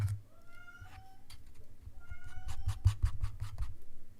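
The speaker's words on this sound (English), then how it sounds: "I don't know if my mic is picking up my cat singing in the bathroom right now. He's like yowling in there." A cat yowling inside a bathroom, drawn-out wavering meows heard faintly in the background, mixed with nearby scratchy brushing or scraping and a low hum.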